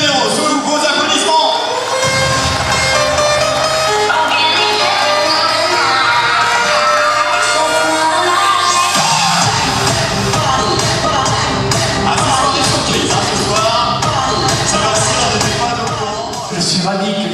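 Large outdoor crowd at a rally celebration for a WRC title in Gap applauds and cheers a co-driver, loud dense clapping and shouting with music playing throughout.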